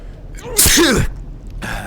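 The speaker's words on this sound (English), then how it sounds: "Hold on, I gotta sneeze." A single loud, close sneeze with a sharp intake of breath leading into an explosive burst, followed by a brief quiet breath afterward.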